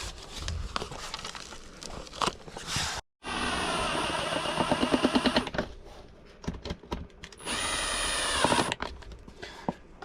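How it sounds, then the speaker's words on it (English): Two bursts of a power drill on its low setting whirring at moderate speed while driving screws, each lasting a few seconds, separated by clicks and handling noises. "Make sure the drill or the impact is on the low setting."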